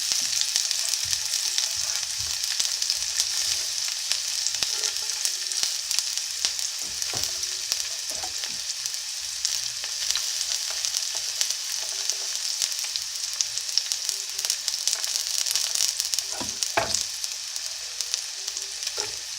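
Onion frying in melted ghee in a cast iron pan, a steady close hiss of sizzling that runs throughout with faint scattered pops and scrapes.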